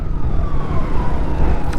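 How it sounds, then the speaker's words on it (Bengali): Ambulance siren wailing close behind on the road, loud and continuous, its rising and falling tone sliding slightly over a steady rumble of traffic and engine noise. "আর পিছনে অ্যাম্বুলেন্স, আগে ওনাকে ছাড়ি তারপর কথা।"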